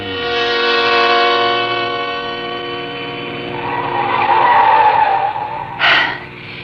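A car speeds up a winding mountain road in an old radio suspense drama, its engine droning loudly and steadily before a sharp tire squeal near the end, with no talking.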